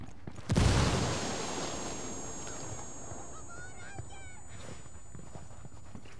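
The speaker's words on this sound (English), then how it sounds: "That explosion got their attention." A frag grenade detonating in the tactical shooter Ghost Recon, a single sharp close blast followed by a lingering rumbling tail, with game ambience and distant bird-like honks afterward.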